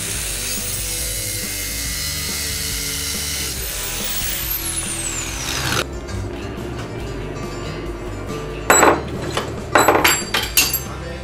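A grinder fitted with a 2.5mm grinding disc cuts steel with a loud, steady, high whine that drops away, then several sharp bursts of harsh grinding follow near the end.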